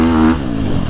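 A 2024 Husqvarna FC350 four-stroke dirt bike engine revs up then settles, a loud close harmonic drone rising in pitch before dropping back over about a second, with no talk.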